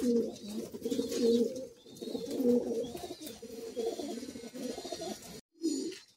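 Madrasi high-flying pigeons in a Kolkata loft, cooing loudly and close in repeated rolling phrases, several birds overlapping, with a short gap before a final coo.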